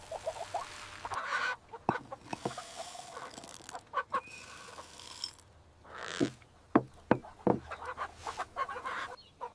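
Laying hens on a countryside farm cluck around a dish of feed, close, irregular bursts of clucks and squawks with quiet gaps between.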